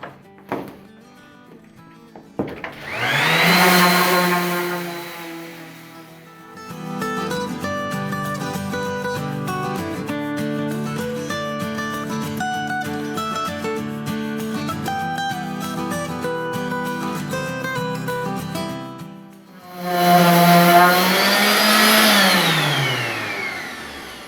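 DeWalt table saw motor spinning up loudly, running with a steady whine and shifting harmonic tones as it cuts, then winding down and revving again near the end, with no talk.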